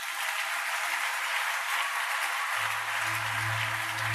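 A church congregation applauding during a worship service, steady dense clapping throughout, with a low sustained organ or keyboard tone entering partway through.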